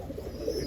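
A pigeon, one of a pair of racing birds, gives a brief, low, soft coo, heard close but quietly for under a second.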